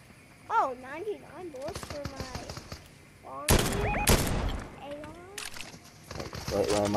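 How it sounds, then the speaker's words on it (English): Gunshots ring out in a Fortnite match, a dense burst of loud cracks in the middle with scattered shots before and after, mixed with speech throughout. "We got some shots coming from this way."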